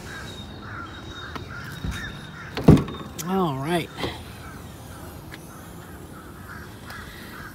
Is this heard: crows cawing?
yes